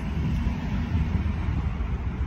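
Strong wind blows outdoors in cold weather in Canada, buffeting the microphone with a loud, steady low roar and gusty rumble throughout, with no talk.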